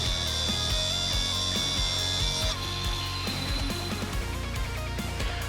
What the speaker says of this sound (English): Or I can just cheat and shorten the bolts by about 3 threads.